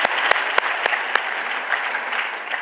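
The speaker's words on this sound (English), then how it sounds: "Another round of applause for the Deputy Chair." Applause for the Deputy Chair from a university address audience, a loud steady clapping crowd with a few sharp, distinct individual claps punching through near the start.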